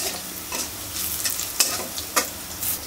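Chopped onion, green chili and garlic frying in hot oil, a loud continuous sizzle with rhythmic bursts of stirring and a couple of sharp utensil scrapes, no voices.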